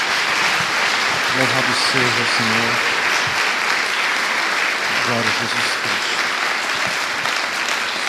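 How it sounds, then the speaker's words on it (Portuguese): A church congregation applauds loudly and continuously throughout, while a voice calls out praise over the clapping. "Dê uma salva de palmas a Jesus."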